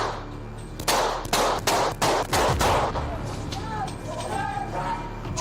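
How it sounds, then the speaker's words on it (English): Gunshots in a rapid burst of about six or seven loud, sharp cracks in close succession during a tense police incident on Halloween, followed by shouting voices and commotion. "shots fired, shots fired"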